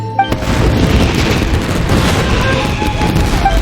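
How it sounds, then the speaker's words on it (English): Fireworks exploding in the video game Genshin Impact, a loud, dense barrage of booms and pops rumbling continuously after a sudden start. "Yoimiya, this is turning into a bit of a fireworks display."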